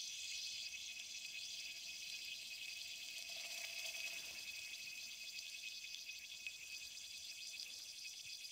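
Lithium metal reacting with water inside a vacuum chamber gives a steady, close fizzing hiss with no talk, staying even for the full stretch and swelling slightly near the middle.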